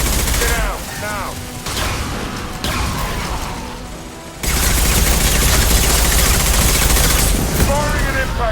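Impact shot gunfire in Mass Effect 2, loud bursts of rapid fusillade and mechanical weapon noise, broken by brief pauses, then a sustained dense barrage of shots to the end.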